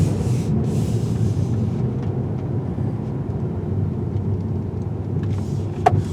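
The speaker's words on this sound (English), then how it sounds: "Let's do some dark, dingy street driving" A 2024 Mercedes CLA250 drives along dark town streets at night, heard from inside as a steady low engine and road rumble with a faint click near the end.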